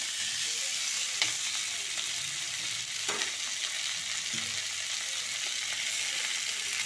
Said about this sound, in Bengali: টমেটোগুলো একটু চেপে চেপে নাড়িয়ে স্ম্যাশ করে নিয়ে আমি এটাকে নাড়ব।